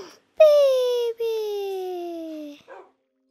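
Tamed wolves in the Minecraft video game whine in two long, falling, high-pitched cries, clear and close, the second drawn out longer, followed by a brief faint sound.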